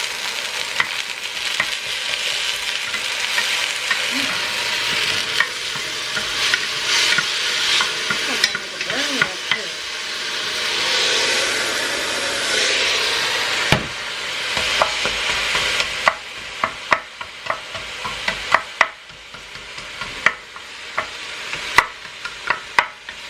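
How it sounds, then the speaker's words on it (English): Garlic sautés in a hot pan with a steady close sizzle while a utensil stirs and scrapes, producing scattered sharp clicks and knocks, especially toward the end. "we're just going to saute this up"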